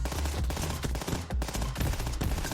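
Blaze Cannon fire in the space shooter Starward Rogue: dense, continuous rapid bursts of game weapon shots, loud and sustained throughout with no talk.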